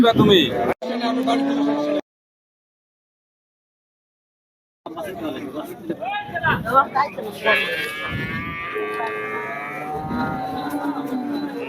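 A dairy cow moos at a busy village cattle market. People talk throughout, the sound cuts out briefly, and then a drawn-out moo rises over the chatter.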